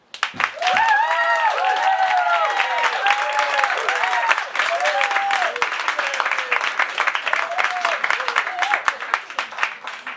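An audience at a comedy debate claps to vote, a dense sustained wave of applause with cheers and whoops rising over it, close and loud, then slowly thinning out.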